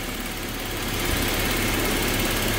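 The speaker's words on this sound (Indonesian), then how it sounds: "Nah ini sudah mulai idle ya" A car engine running on cooking oil in place of engine oil idles steadily at close range, a continuous even rumble with a faint buzzing edge and no speech over it.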